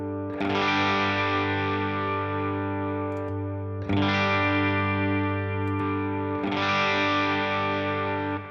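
An electric guitar through a Tube Screamer overdrive pedal on a Headrush Tri Stack rig strums three big sustained chords, each ringing out with a gritty, saturated tone before the next.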